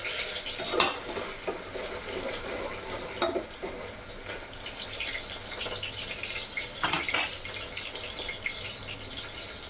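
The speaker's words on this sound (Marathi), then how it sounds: "तेलामध्ये आता कांदा टाकणार आहे." Chopped onion fries in hot oil in a home kitchen, a continuous close crackling sizzle with stirring scrapes and a few clinks of utensils against the pan, no voices.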